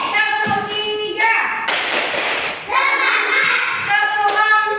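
Schoolchildren in a second-grade Islamic studies class clap a short counted rhythm together, a burst of sharp hand claps breaking through chanting young voices that carry on around it.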